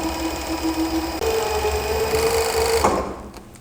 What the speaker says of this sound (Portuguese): E aproveitando que a gente tá aqui na máquina overlock, a gente vai fazer o acabamento na lateral da calça